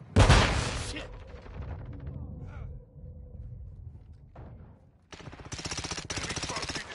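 Video game firefight with bursts of automatic gunfire, a loud opening volley, then sustained rattling shots and a renewed heavy burst near the end, under and between shouted voice chatter.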